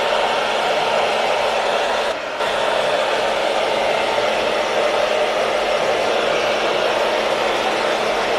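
A hair dryer fitted with a diffuser, running on low speed and high heat while drying a short textured pixie cut, gives a loud, steady whooshing roar that barely breaks once.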